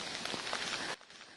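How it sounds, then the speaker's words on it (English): Torrential rain pours at a landslide-hit stretch of river in Mundakkai, Kerala, as a dense, steady hiss close by that drops off sharply after about a second. "amid this torrential rain"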